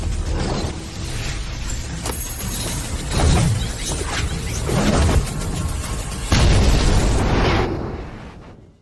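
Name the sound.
small cauldron exploding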